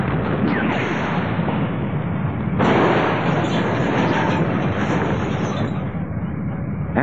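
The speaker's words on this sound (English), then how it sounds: "After successfully completing the cable car explosion" A staged cable car explosion for a movie street scene: a sustained, loud roaring blast with crackling debris, surging sharply partway through and holding dense and powerful to the end.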